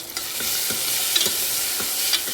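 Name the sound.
sautéing onion, tomato, green chilli and garlic in oil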